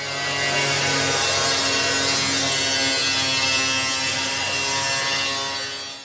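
Power tool grinding or sanding paint off a steel shipping container panel ahead of welding, a steady loud buzzing whine with harmonic hum that runs continuously from start to finish, alone without talk.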